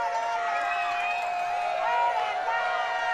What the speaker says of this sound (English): You hear the crowd getting raucous out here.